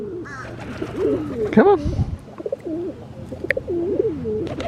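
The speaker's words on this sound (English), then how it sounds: "This is my birdie here." A pet bird, a dove or pigeon, coos in soft repeated throaty phrases close by, while a person speaks briefly to it.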